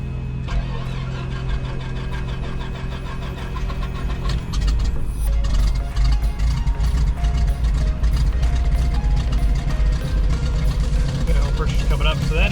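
An Aerostar 700 twin's right piston engine cranks with rhythmic clattering, then catches around the midpoint and runs louder and rougher, close by and steady.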